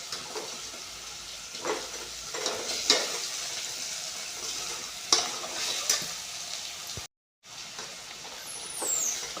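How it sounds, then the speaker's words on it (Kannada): Crushed cardamom, cloves and pepper fry in a pan for vegetable biryani, giving a steady, close sizzle broken by occasional scraping stirs. "ಈಗ ನೋಡಿರಿ ಇದು ಒಂದು ಸ್ವಲ್ಪ ಫ್ರೈ ಆಗ್ಬೇಕು ರೀ"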